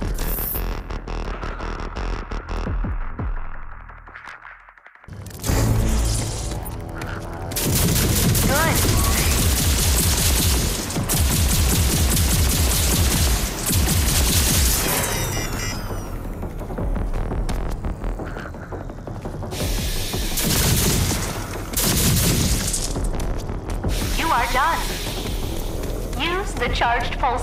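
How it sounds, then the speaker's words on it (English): Charged pulse cannon in Rage 2 firing in rapid, sustained bursts of loud throbbing energy shots, with a brief pause near the start before the fire resumes; a voice speaks briefly. "Charged pulse cannon. It's a high firing rate weapon whose damage increases when reaching optimal heat"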